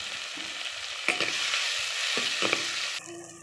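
Vegetables and tomato sauté in a pan for a village-style sambar, a steady close sizzle broken by several sharp stirring scrapes, with a brief clattering change near the end.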